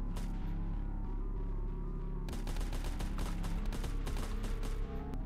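Gunfire in the video game Happy Hills Homicide: a dense, rapid burst of loud shots crackling over a constant heavy rumble of game sound, with no talk.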